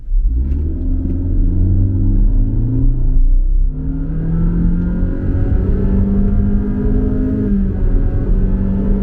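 A mid-variant 2023 Honda BR-V with a DOHC engine revs steadily under acceleration, with its pitch rising and then dropping each time the transmission shifts through simulated gears, a loud, continuous drone heard up close from inside the cabin.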